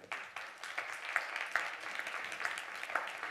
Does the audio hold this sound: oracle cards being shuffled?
no